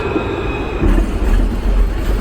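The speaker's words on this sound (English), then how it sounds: "The Melbourne trams going by again." Melbourne trams rumble past outdoors at twilight, a loud steady rolling roar with rail noise and a faint high wheel squeal, the rumble deepening and swelling partway through.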